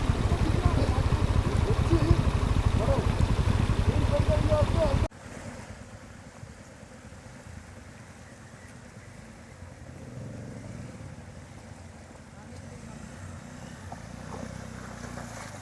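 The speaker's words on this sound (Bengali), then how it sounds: "তো একটা ওয়াটার ক্রসিং পেয়ে গেছি, আর তার মধ্যে প্রচুর জলও রয়েছে আর লুজ পাথর রয়েছে।" A vehicle fording a deep water crossing strewn with loose stones on a north Sikkim mountain road: a loud roaring rush of engine and churning water that abruptly drops to a quieter rumble, with voices talking over it.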